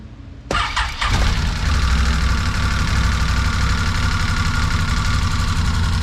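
Can-Am Defender Limited side-by-side engine cranking and catching, then settling into a steady, loud idle while warming up, with a constant close mechanical clatter of valve noise.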